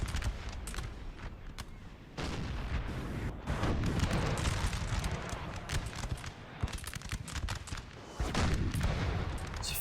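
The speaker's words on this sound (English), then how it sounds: "Denmark's artillery's got to keep up the fire though" Cannon artillery booms and crackling musket volleys from a Napoleon: Total War line battle, dense and continuous, with repeated loud bursts layered over a constant rumble of distant fire.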